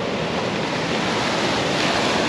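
Ocean surf washing onto a rocky shore at Abalone Cove in Palos Verdes, California: a steady, loud, broad roar of breaking waves and wash, continuous with wind noise and no speech.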